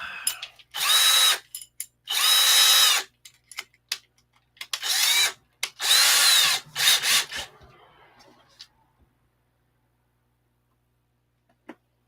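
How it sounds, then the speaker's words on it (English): Wood drill bit boring a shallow recess into wood to inset a washer, in several loud bursts of a few seconds each with short pauses between, then tapering off into quiet. "It's like a wood drill bit that is about the same size as this washer."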